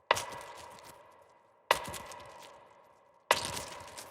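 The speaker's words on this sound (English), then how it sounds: "you almost get this squelchy sound" Three sharp, processed snare hits spaced evenly about 1.6 seconds apart, each with a gritty, squelchy noise tail shaped by a ShaperBox counting-coins preset for a lo-fi beat, heard alone without voices.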